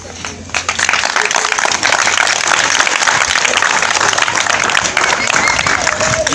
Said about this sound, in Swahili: Hiyo sio makofi mzuri kwa director.